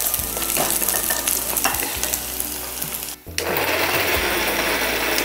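Mixer grinder mincing chicken: a loud, continuous whirring grind with gritty churning, a brief cut and drop in level, then the motor roaring back at full strength.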